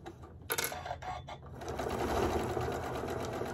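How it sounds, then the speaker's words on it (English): A sewing machine stitches a round pinch pot holder, starting with a few short stitching bursts before settling into a continuous, close run. "And I just continue sewing"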